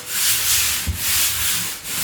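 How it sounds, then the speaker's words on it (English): Sanding an interior wall before painting, close by: a rough rubbing hiss in a steady back-and-forth rhythm, with a short pause between some strokes. "I'm going to try to sand this wall a little bit"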